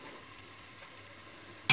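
Tomatoes sizzle quietly in a hot pan while being stir-fried for a Vietnamese-style beef ragout, a soft steady frying hiss that ends in a brief loud burst.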